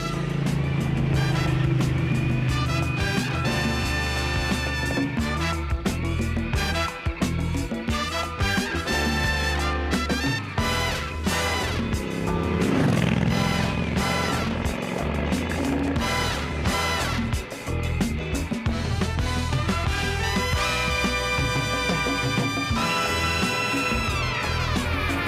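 A Triumph Thunderbird cruiser motorcycle rides along at a steady pace. Its engine makes a loud, continuous drone with shifting tones and stays prominent throughout, with no talking.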